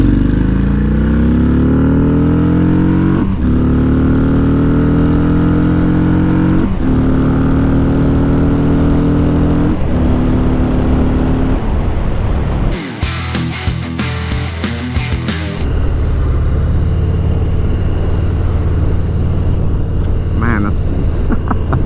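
A 2019 Harley-Davidson FXDR 114 accelerating hard, its engine note climbing in pitch through several gear changes, loud and close, with a steadier rumble and wind rush afterward.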